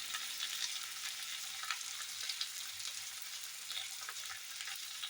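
Ingredients for chili soya fry in a hot pan with oil, giving a steady, continuous crackling sizzle close up that holds at an even level throughout, with faint stirring and no talking.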